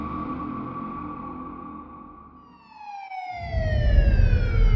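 Police car sirens wailing near the alleys and roads around a restaurant, a steady tone that dips and then rises into a loud, layered siren with rumbling traffic beneath.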